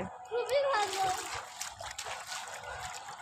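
A child splashes in rainwater pooled on a flat rooftop, bursts of sloshing and trickling water up close, while voices talk over it.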